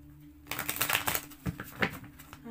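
Tarot cards being shuffled by hand during a reading, a two-second run of soft riffling and flicking with a steady low hum underneath.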